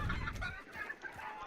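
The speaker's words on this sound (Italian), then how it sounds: "Ara, le galline." Chickens in a video game cluck in short, soft bursts, faint and somewhat distant, scattered across a brief moment with no talk.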